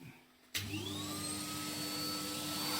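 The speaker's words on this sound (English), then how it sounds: "then we're going to put the hoover on" A vacuum cleaner switches on abruptly and runs with a steady, loud whine that rises in pitch as it spins up, used while sweeping a Stovax Stockton 5 wood-burning multi-fuel stove.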